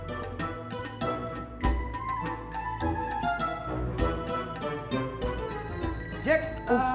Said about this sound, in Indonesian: telepon bunyi didiemin aja sih.